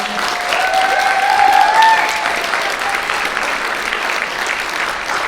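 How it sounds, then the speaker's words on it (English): Sustained audience applause for a volunteer at a community theatre production, loud and steady with cheering voices rising briefly over the clapping before it settles into an even wash. "And a big round of applause to our newest volunteer here on the Harbor Town Players on the light board, Raina Thorson."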